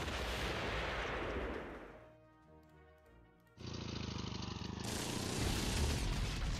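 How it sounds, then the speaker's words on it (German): Heavy booming artillery fire in the Panzer Corps Gold strategy game, a broad roaring barrage that fades to a lull, then resumes as dense rumbling blasts until the end. "Weitere Artillerie"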